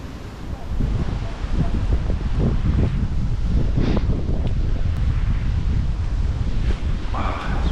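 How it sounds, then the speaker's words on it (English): Strong wind gusts across the microphone beside a river and canal, a loud, continuous low roar with rustling buffets that barely lets up, and no clear talk over it. "Wind."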